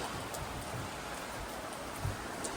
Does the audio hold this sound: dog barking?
no